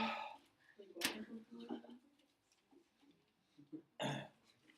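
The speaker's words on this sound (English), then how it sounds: "Get the hiccups." A person hiccups during a classroom geometry lesson, giving two abrupt, sharp bursts about three seconds apart, with quieter talk between them.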